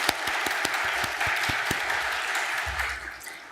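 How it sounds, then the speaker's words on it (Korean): Church congregation applauding after a mixed-voice choir sings a hymn during Sunday worship, sustained clapping from a crowd for several seconds with sharp individual claps standing out. "감사와 격려의 박수로 우리 한번 올려드리겠습니다"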